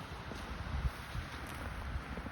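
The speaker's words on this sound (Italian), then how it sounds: "c'è un sibilo incredibile del vento che sale qui dal versante" Gusty mountain wind on an open slope of Monte Caina on the Asiago plateau, heard as a steady, fairly faint blustery rumble with soft buffeting bursts and no voices.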